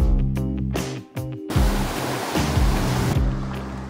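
Sea waves break and wash along the shore, a loud, continuous surf roar that swells and recedes, with a brief dip before the wash builds again.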